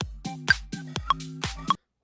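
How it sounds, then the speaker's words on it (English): In Ableton, a metronome set to 100 BPM ticks in sharp, evenly spaced clicks over a faster music sample whose tonal notes and beats drift out of step with it. "the metronome will beat in time with the project tempo"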